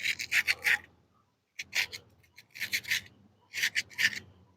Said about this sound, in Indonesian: Diamplasin dulu biar enggak karat ya